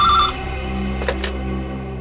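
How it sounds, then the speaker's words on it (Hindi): A telephone rings loudly and close, one short electronic ring burst at the start followed by a quieter tonal tail, indoors at night. "इतनी रात गई तुमने फोन किया?"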